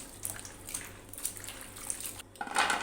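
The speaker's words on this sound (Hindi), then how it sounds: "ये 3-4 पानी इसे हम अच्छी तरह धोएंगे, वॉश करेंगे ताकि इसका जो है एक्स्ट्रा स्टार्च है वो निकल जाए।" Ingredients for lachha pakora being rinsed in water in a pot to remove excess starch: repeated splashing, sloshing and clinking against the vessel, with a louder burst of swishing water near the end.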